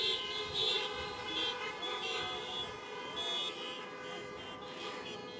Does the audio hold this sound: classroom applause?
no